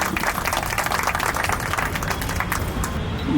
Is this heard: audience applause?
yes